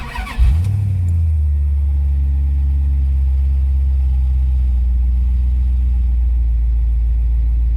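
Engine of a 1956 Dodge catches and briefly revs up, then settles into a steady, deep, loud idle that gradually eases down, heard up close with no one speaking.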